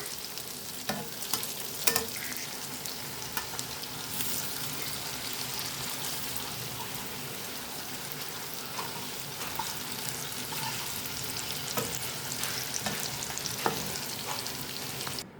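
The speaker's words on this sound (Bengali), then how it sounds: "এগুলো আমি উল্টে নেব।" Chhana kofta balls sizzle steadily in hot oil in a kadai, with occasional scrapes and clinks as they are turned, a continuous close frying hiss throughout.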